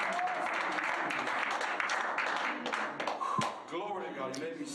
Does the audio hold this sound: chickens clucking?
no